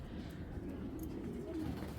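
A foreign-breed female pigeon coos softly in a low, rolling murmur, faint and steady against quiet background noise.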